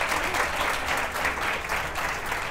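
Studio audience applause for a quiz-show team of three contestants, a steady dense patter of many hands sustained throughout, fairly close and even in level with no voices over it.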